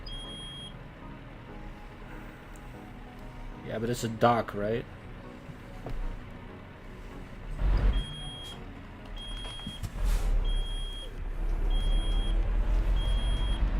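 Low air pressure alarm in a truck in Euro Truck Simulator 2, parking at a dock: thin electronic beeps repeating steadily over engine rumble, with someone talking between them.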